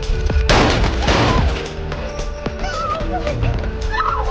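Gunfire in an action-film home invasion, as masked, fully armed attackers storm a house and shoot the occupants; a loud cluster of sharp blasts at the start, then repeated thuds and impacts over a dense, busy cinematic soundtrack.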